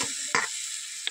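Meat dropped into a hot pot, with a sharp burst of sizzling and frying, a brief stirring scrape and a second short hiss near the end, close and fairly quiet in a home kitchen.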